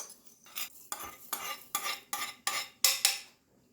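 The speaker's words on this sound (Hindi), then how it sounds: "धनिया को हम थोड़ा सा ड्राई रोस्ट करेंगे" Coriander seeds dry roast in a pan over low to medium flame, stirred in a rapid rhythmic series of about eight crisp metallic scrapes, close and clear, with no talking.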